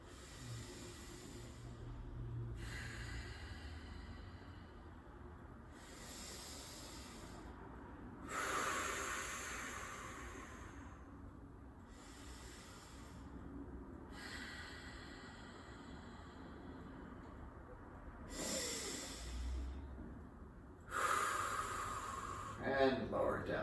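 Deep breathing during a guided stretching exercise, several slow, loud inhale-and-exhale breaths at regular intervals, close to the microphone, with quiet pauses between them.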